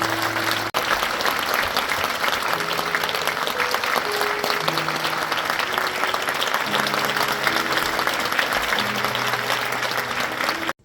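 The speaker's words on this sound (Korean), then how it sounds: "큰 박수로 축하해 주시겠습니다" Sustained applause from a church congregation at an ordination thanksgiving service at Bundang Central Church, steady and dense throughout, with organ or piano tones sounding beneath it.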